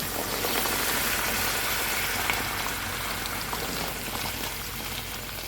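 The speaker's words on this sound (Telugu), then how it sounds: "ఇప్పుడైతే వాటర్ అయితే వేసేస్తున్నాను" A loud, continuous gush of water pours into a cooking pot of chicken and oats, bubbling and hissing steadily at close range for several seconds.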